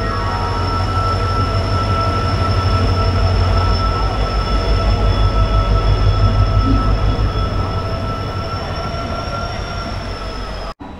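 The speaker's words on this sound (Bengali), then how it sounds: "আর এই যে আমাদের ট্রেন ঢুকছে 12021 বারবিল জনশতাব্দী ডিজেল লোকোমোটিভ" The Barbil Jan Shatabdi express, hauled by a diesel locomotive, rolls into a station platform with a steady loud rumble, a sustained engine drone and high wheel squeal throughout, no voices.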